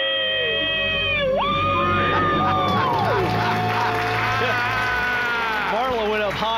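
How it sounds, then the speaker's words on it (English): People screaming in celebration after paying off debt, a long sustained shout with voices sliding up and down in pitch, crowd cheering and whooping around it, close and loud. "Let's hear a debt-free scream."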